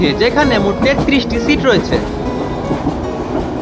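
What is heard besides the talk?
Kishoreganj Express train arriving at Narsingdi railway station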